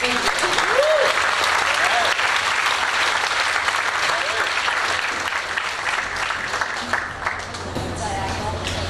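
Sustained clapping from an audience at a high school music concert fills the whole stretch, a dense steady wash of many hands with faint crowd murmur underneath.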